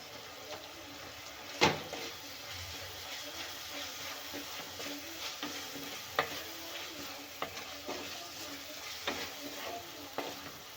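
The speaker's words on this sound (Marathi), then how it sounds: "मी दीड चम्मच मीठ घातलं आहे म्हणजे आपला कांदा थोडा लवकर भाजला जाईल" Onions with salt and turmeric fry in a clay pot for egg curry, a soft steady sizzle broken by frequent stirring scrapes and taps, one sharper knock early on, no talking.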